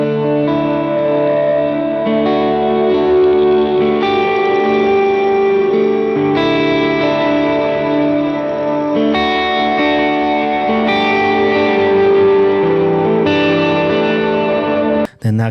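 Guitar pedalboard chain with delay and reverb producing sustained, shimmering chords and random glitchy artifacts in the top end, a rain-like sparkle over repeating swells that stays loud and steady until an abrupt cut at the very end.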